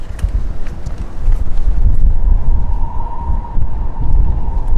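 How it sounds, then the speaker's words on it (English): Wind buffets the microphone at the Taipei 101 outdoor observatory on the 91st floor, a loud gusty rumble with a faint steady tone in the background and no talking. "Windy up here"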